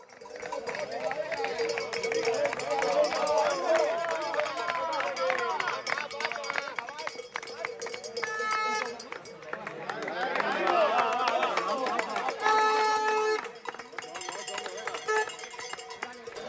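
A crowd of spectators at the Zegama-Aizkorri mountain race shouts and cheers encouragement to runners, with clapping and cowbells ringing out and lots of overlapping voices.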